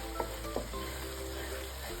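Wheat dalia with tarka is stirred in a pan, a steady soft sizzle with a couple of brief scraping knocks near the start, quiet and close with no talk.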